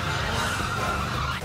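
Loud, sustained tire skid as a car whips around in donuts at a monster truck and drift car show, engine and rubber screech blending into one steady roar up close.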